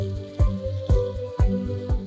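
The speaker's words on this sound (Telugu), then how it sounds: "కొద్దిగా నీళ్ళు పోసి" Water poured into a capsicum masala curry being ground with poppy seeds, coconut and onion, heard as close, regular wet slaps and squelches repeating about every half second, with no voices.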